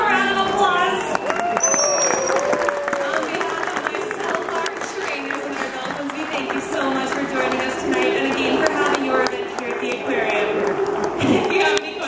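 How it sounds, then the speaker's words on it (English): An audience at the Vancouver Aquarium dolphin show applauds, with dense clapping and crowd noise running throughout, mixed with voices and cheering. "Let's give them a round of applause."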